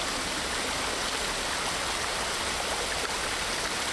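Flowing stream ambience in Ghost of Tsushima, a steady broadband rush of water that stays even and continuous for the whole stretch, with no voices.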